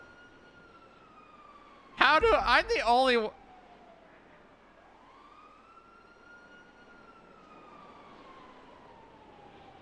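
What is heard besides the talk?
police siren in video game GTA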